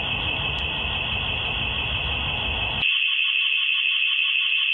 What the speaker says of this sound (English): you can hear the alarm. I guess from the front door being pushed open